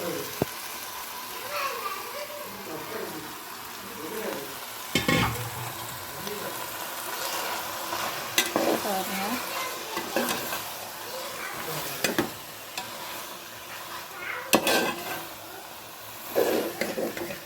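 Chicken stir-fried in a pan with a sautéed paste for a chicken gravy: steady frying sizzle with repeated stirring scrapes and clanks of a utensil against the pan, speech audible at times in the background.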